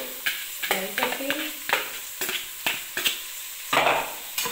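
Onion, capsicum and carrot being sautéed in a pan, with a regular series of sharp spatula scrapes and stirring knocks over a continuous sizzle, close and fairly loud.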